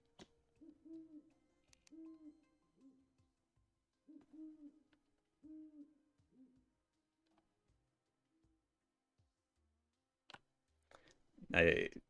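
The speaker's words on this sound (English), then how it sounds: "Did you hear what the owl just said?" An owl in the video game Terraria gives a series of soft, repeated hoots in short pairs, spaced at a steady interval, followed by a few clicks and a brief burst of louder sound at the end.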